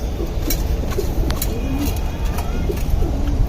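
Pigeons kept at a breeder's loft cooing in low, repeated throaty calls close by, over a steady background hum.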